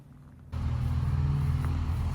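A neighbor's lawn mower cutting grass nearby, a steady low engine drone that kicks in abruptly and runs continuously.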